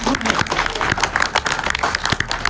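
Audience applause at a Bihari Culture Day gathering, dense continuous clapping from a crowd filling the space, with voices murmuring underneath.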